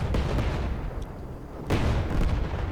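Destroyer naval gun firing in a modded warship game, two heavy booming reports about a second and a half apart, each with a thunky low-end thump and rumbling tail over continuous low engine rumble.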